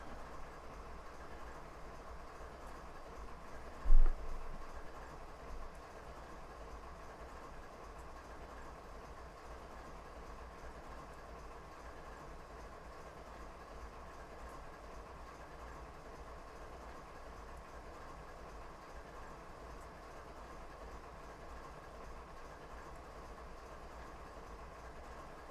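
A slow-moving Norfolk coal freight train in Train Simulator 2017 rumbles along in a faint, steady low drone, with one brief clunk near the start and no talk.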